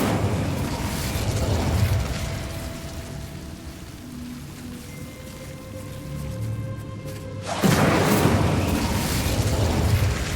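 A fire spell cast in the Hogwarts Legacy video game: a sudden whooshing, crackling burst at about eight seconds that stays loud and roaring to the end, following quieter ambient game sound.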